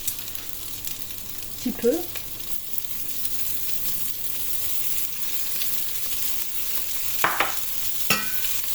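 Chopped onion sizzles steadily in a hot pan, with a soft continuous frying hiss and a few scraping stirs, while a voice speaks briefly.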